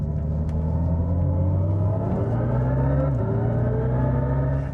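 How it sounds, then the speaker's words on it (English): A Hyundai IONIQ 5 electric car plays a simulated engine sound, a steady droning tone whose pitch climbs through several gear steps, with a short pop on a downshift partway through. "There's even a little rally pop on the downshift."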